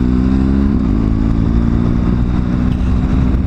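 2018 BMW 1200GS Adventure motorcycle riding along, its engine droning close and loud, with a gear shift about a second in that drops the pitch before it climbs steadily again.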